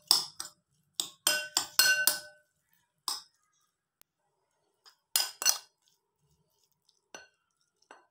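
Salt and black pepper are whisked into egg in a bowl with quick bursts of bright clinking, utensil striking the bowl in rapid strokes, then pauses and a few more separate taps, close and without speech.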